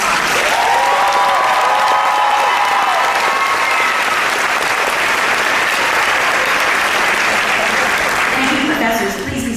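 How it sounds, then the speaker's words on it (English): A large graduation crowd at a 2018 Cal State Chico commencement breaks into sustained, loud applause for the professors, a dense wash of clapping that holds steady for nearly ten seconds with faint voices mixed in. "Let's go ahead and give them one more round of applause."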